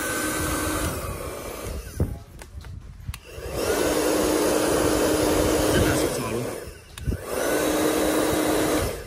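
A hair dryer runs with a steady, loud broadband whoosh, briefly dipping twice as it is switched or moved, with no talk over it.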